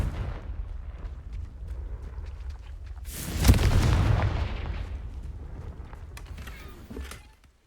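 A Confringo spell explosion in the Hogwarts Legacy video game bursts as a loud rumbling blast over a steady game background, then slowly fades with a brief thump near the end.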